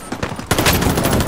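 Heavy automatic gunfire in Call of Duty: Modern Warfare, rapid rattling bursts that grow louder and denser halfway through, forming a continuous close barrage.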